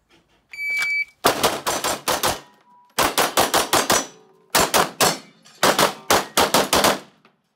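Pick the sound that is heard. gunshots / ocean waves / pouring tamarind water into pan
gunshots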